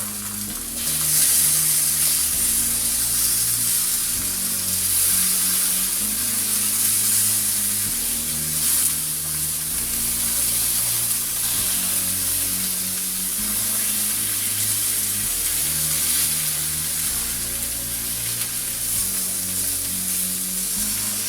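Zucchini frying in a very hot skillet gives a steady, loud, close sizzle that holds without a break, with faint stirring or shifting underneath and no talking.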